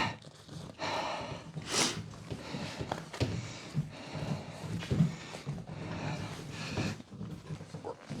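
Heavy, uneven breathing close to the microphone, with snorting exhales and gasps in an irregular rhythm, fairly quiet overall.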